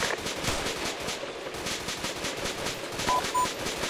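Sustained automatic gunfire during a military exercise outdoors, with steady rapid bursts of shots at moderate distance repeating throughout.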